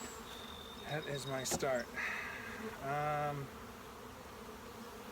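Honey bees buzzing around an opened hive during a hive split, a steady hum beneath a voice, with louder harmonic drones as bees pass close.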